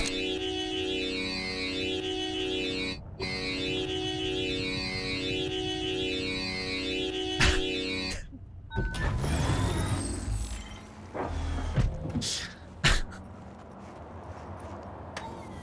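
Futuristic Erendite car engine from Cyberpunk 2077, giving a loud, steady warbling sci-fi hum with layered wavering tones, then breaking off into a burst of mechanical clatter and noise.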